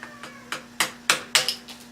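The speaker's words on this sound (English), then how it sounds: "small screwdriver here, and use it like a wedge and just give it a tap" A small screwdriver used as a wedge gets tapped into a taper lock hub, giving six or seven sharp metallic ticks in a steady rhythm, close and fairly quiet, the middle strikes loudest, over a faint steady hum.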